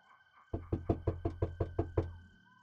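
A rapid series of about nine firm knocks on a door, evenly spaced and close, with a faint steady hum underneath.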